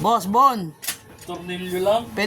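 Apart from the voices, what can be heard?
No distinct noise like a dog, phone or traffic.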